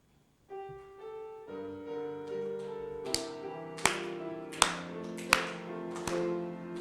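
A church congregation claps in a steady beat to a welcome song during a Sunday morning service. The sharp claps land about once a second over sustained keyboard chords.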